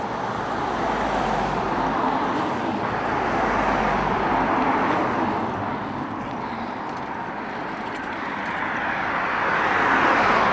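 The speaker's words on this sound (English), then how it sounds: "Give the cars a bit of a chance to get past." Steady rumble of road traffic with cars passing close by, the wash of tyres rising and falling continuously with no talk.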